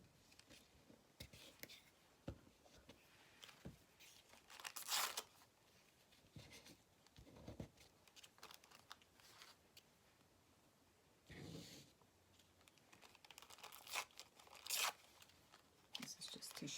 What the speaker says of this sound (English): This is just tissue paper.